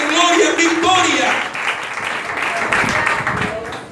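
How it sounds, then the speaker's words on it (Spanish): A church congregation claps and applauds for the preacher at a leadership congress, a dense burst of clapping that starts loud and thins out, with voices and shouting mixed in throughout. "A ver esas palmas para el maestro"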